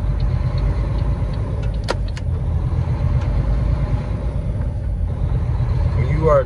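A truck driving on an icy road, heard from inside the cab as a steady, loud low engine and road rumble with a few brief sharp clicks, continuing without pause.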